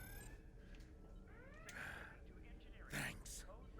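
Cat meowing in a Star Trek video game, a couple of short rising meows amid game ambience and soft background tones, the louder cry near the end.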